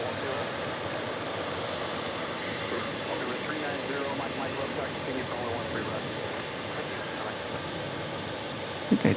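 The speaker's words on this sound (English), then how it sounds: "And here comes a plane from somewhere." A plane at Dallas Love Field during a total solar eclipse produces a steady, distant engine roar that fills the whole stretch, with faint voices in the background.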